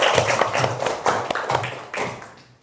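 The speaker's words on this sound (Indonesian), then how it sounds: "Tepuk tangan untuk kalian semua." Classroom applause, a short burst of scattered clapping hands that fades out after about two seconds, close and fairly loud, with no talk over it.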